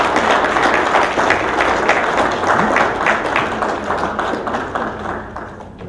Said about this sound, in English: Join us in applauding Deputy Inspector Henry Kia for his outstanding